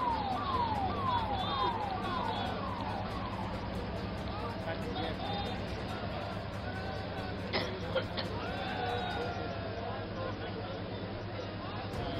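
An ambulance siren wails in repeated falling sweeps as the vehicle leaves a rescue site, faint and distant beneath a steady crowd murmur and people talking nearby.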